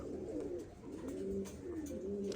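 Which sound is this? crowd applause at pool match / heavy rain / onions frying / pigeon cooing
pigeon cooing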